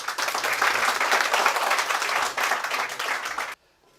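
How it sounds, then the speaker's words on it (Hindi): Audience at a cultural programme and award ceremony breaking into vigorous applause, a dense, loud sheet of clapping that holds steady and then cuts off abruptly near the end. "डॉक्टर VK सिन्हा, ज़बरदस्त ताली, है ना।"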